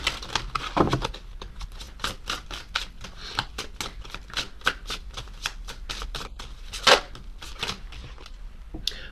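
A deck of tarot cards is shuffled by hand in a steady run of crisp riffling snaps and flicks, close and fairly loud, with a brief louder burst near the end and no talking.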